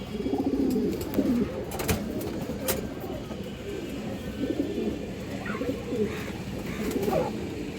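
Pigeons for sale, including hens and high flyers, coo in low repeated rolling calls close by, with sharp clicks and a steady background hum underneath.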